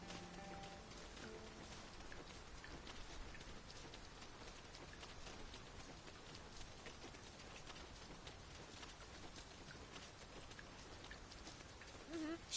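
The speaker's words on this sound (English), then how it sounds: "It's really coming down. We can push through a bit of rain," Steady rain falls in the Dragon's Dogma 2 video game, a continuous even hiss of downpour lasting throughout at a low, constant level with no talk.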